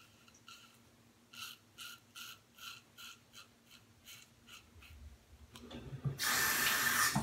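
Tap water running into a sink to wet the face before shaving, starting with a series of soft rhythmic splashes and then swelling into a steady, louder rushing stream near the end.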